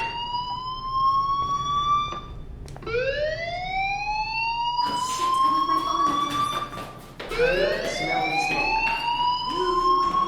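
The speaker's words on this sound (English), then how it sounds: "do you hear that fire alarm? That means you should be outside." School fire alarm in the video game Life is Strange, a loud electronic siren that sweeps upward in repeated rising tones, restarting several times, with no talk over it.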